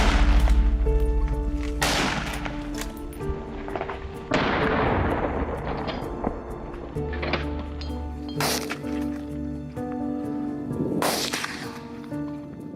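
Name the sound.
rifle gunshot while hunting wild boar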